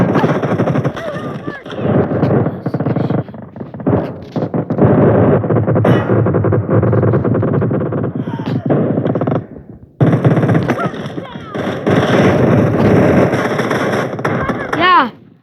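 Bursts of gunfire from a weapon in the video game PUBG, loud and dense across the whole stretch, with a player talking over the shots throughout.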